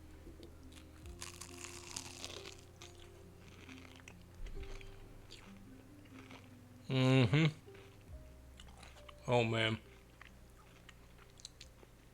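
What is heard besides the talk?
crunchy beef croquette being bitten and chewed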